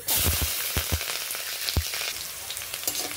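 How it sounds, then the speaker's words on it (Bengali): Steady sizzle of green chilies in hot mustard oil, with several sharp pops and crackles near the start, easing into a continuous frying hiss. "এই যে কড়াইয়ে সরিষার তেল গরম করে নিয়েছি, এখন এতে দিয়ে দিচ্ছি"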